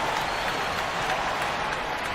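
Crowd cheers and applause from an e-basketball video game arena fill the space as a steady, dense roar, loud and continuous late in the fourth quarter of a close game.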